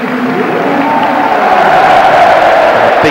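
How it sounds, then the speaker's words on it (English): Home football crowd at Highbury giving a big sustained cheer and roar, loud and continuous, with a faint whistle near the end. "A big cheer for Ray Parlour from the home support."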